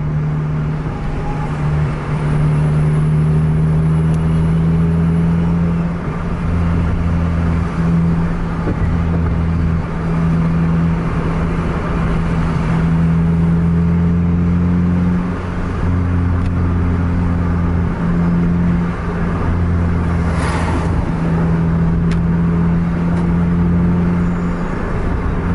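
Scania and Mercedes-Benz trucks race on a track, their heavy engines droning loudly and steadily with rising and falling revs, close and continuous, with no voices.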